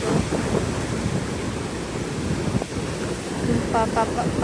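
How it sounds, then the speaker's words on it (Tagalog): Strong ocean waves at Laomei Green Reef surge and rumble continuously, loud and close, as a broad roar of surf with no break. "Oh, lumalakas yung alon guys."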